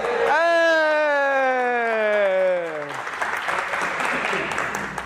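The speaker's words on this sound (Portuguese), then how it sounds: "Uma salva de palmas para ele, hein?" A long, loud descending tonal wail gives way to a round of clapping from the group at a Bible study lesson, the applause steady and moderate until the end.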